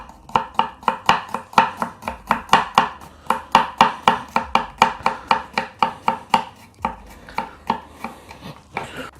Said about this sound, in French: Pour ce qui est de l'ail, c'est pareil, on va le ciseler le plus fin possible.